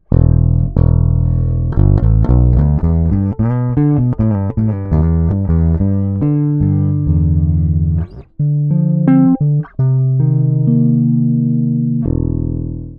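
A Bootlegger Ace headless bass guitar played through its neck pickup, loud and alone: a run of plucked notes, some in quick bursts and others sustained, ending on long ringing tones.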